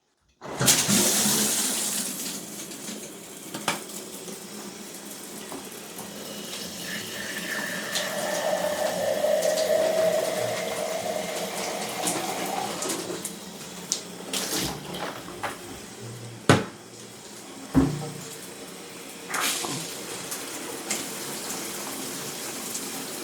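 A Stone Stream shower head with a filter kit is switched on, giving a steady hiss of running water that swells and continues for most of the stretch. A few sharp knocks and clunks break through near the end.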